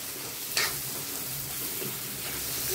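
Chili powder frying in hot oil for a vegetable kurma gives a steady, soft sizzle. A brief scrape from stirring comes early, and no one speaks.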